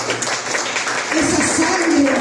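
A church congregation applauds in a steady wash of clapping, with voices mixed in beneath it and a sung or sustained tone rising in the second half.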